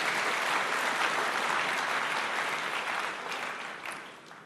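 An audience claps in a church during a sermon, a dense, steady wash of applause from many hands that slowly fades toward the end.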